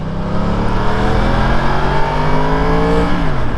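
Yamaha R1 superbike with a loud aftermarket exhaust, engine held at high revs with a rising pitch and a sharp drop near the end, loud and close with no talking.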